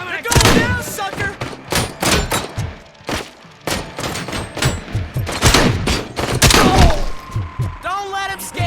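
Loud, dense gunfire bursts in the video game Robocop Rogue City on Xbox Series, repeated volleys and thuds throughout under shouted voices.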